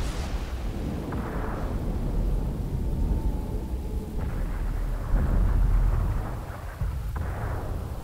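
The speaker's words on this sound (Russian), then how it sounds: "Выстрел." A tank's cannon fires in a tank video game, with deep booming rumbles that rise in a few low, heavy surges over a continuous muffled roar.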